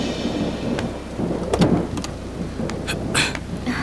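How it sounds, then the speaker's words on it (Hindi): Steady rain falls with low thunder rumbling beneath it and a few sharper cracks, heard close and continuous, with no voices. "क्या बारिश हो रही है"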